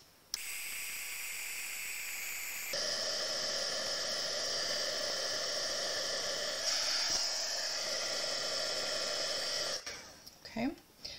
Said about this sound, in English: and then set it with the heat tool.